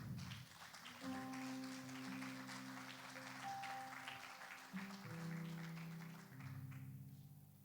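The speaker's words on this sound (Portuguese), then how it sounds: "Dê uma salva de palmas." Church congregation clapping throughout a worship service, a dense steady wash of applause mixed with sustained music tones, loud and continuous without pauses.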